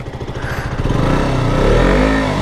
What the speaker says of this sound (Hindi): गाइस KTM का इंजन इतना स्मूथ मैंने आज तक कभी नहीं देखा है